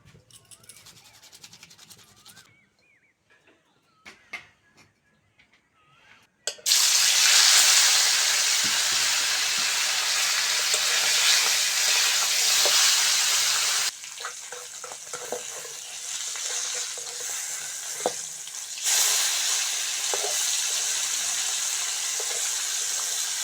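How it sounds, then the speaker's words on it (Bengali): Amudi fish frying in a pan of hot oil, starting with quiet kitchen handling sounds, then a loud, steady sizzle close by that dips briefly and carries on with intermittent crackling. "মাছগুলো ভাজা হয়ে গেছে, তুলে নেব।"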